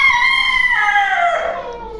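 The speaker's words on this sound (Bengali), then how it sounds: "এই যে আমার আসিল মুরগিগুলা মাশাআল্লাহ আগের থেকে অনেক বড় হয়ে গেছে" Aseel chickens kept with a rooster on a rooftop during rain; one bird lets out a single loud, drawn-out call close by that falls away at the end.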